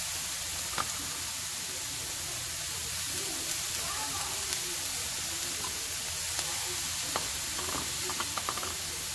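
Onions fry on a small flat-top griddle, giving a broad, constant hissing sizzle throughout with faint scattered taps and scrapes and no talking.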